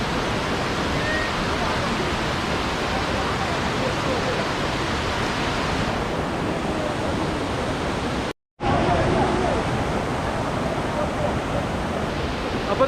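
Marmala Aruvi waterfall roars with a dense, steady rush of falling water, loud and close, broken only by a brief cut partway through.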